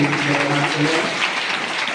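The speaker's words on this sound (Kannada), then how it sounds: "ನೀವೆಲ್ಲರ ಚಪ್ಪಾಳೆ ಮೂಲಕ" A crowd claps steadily in dense applause at a welcome ceremony at a Hindu monastery, with a voice briefly audible over it at the start.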